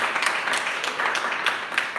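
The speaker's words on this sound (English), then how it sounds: "Give the Ministry of Agriculture and Fisheries a round of applause." Audience at an agricultural sensitization seminar applauds steadily, a mid-sized crowd clapping with a few sharper individual claps standing out in the wash.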